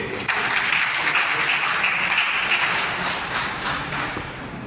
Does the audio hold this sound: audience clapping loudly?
yes